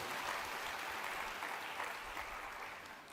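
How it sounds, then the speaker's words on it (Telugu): A church congregation claps loudly together during a Telugu sermon, a dense, sustained burst of applause that fades slightly near the end. "గట్టిగా చప్పట్లు కొట్టి ప్రభువును మహిమపరచండి"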